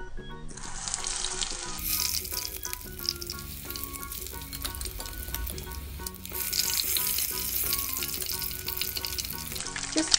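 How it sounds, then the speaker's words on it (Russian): Dough pastries sizzle loudly in hot oil in a frying pan, a steady crackling fry that swells louder toward the end, with no talking. "И продолжаем так жарить, пока не закончится все тесто."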